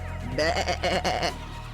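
A single wavering bleat from a goat-man character in the video game Riddle Transfer, loud and close, lasting about a second over a low steady hum.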